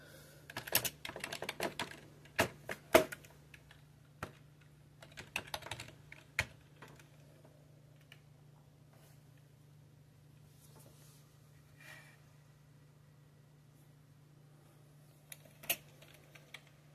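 Typing on a computer keyboard plugged into an 8086 PCB computer: bursts of clicky keystrokes in the first seconds, then sparse isolated taps over a steady low hum, fairly close.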